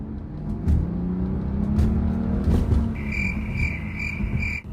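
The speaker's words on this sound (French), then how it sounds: "prenons quelques extraits sonores rapides pour entendre le son dans l'habitacle en roulant" Cabin of a BMW 335i on the move, with a steady low engine drone and road rumble throughout and a faint high whine near the end.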